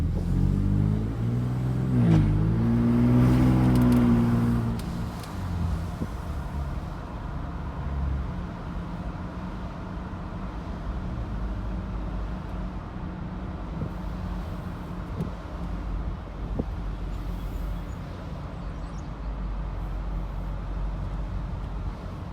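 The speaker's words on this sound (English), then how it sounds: "now we're just gonna go for a little bit of a cruise to see how it sounds." A car fitted with aFe equal length catless downpipes cruises along, its exhaust giving a brief louder rise early on before settling into a steady low drone mixed with road and wind noise.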